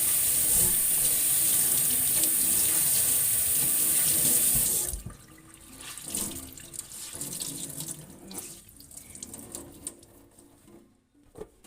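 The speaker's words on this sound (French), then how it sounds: "Et on va le rincer déjà, pour qu'il soit propre." An item is rinsed under a running kitchen tap; a loud, steady gush of water flows for about five seconds, then stops, leaving quieter handling sounds.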